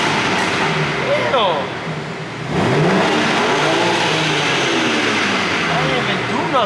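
A car engine revs up loudly close by, rising and falling in pitch twice with a brief dip between, over steady background noise.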